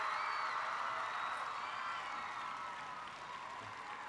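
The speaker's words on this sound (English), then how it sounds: "Please, a massive round of applause." A crowd applauding steadily, broad wash of clapping with faint cheers, holding at moderate loudness and tapering slightly toward the end.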